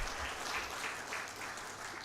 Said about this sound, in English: Another hand clap for Dr.